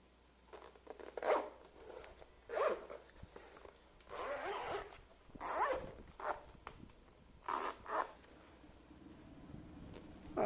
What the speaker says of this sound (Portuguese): Junta o zíper, do mesmo jeito que ele vai fechando aqui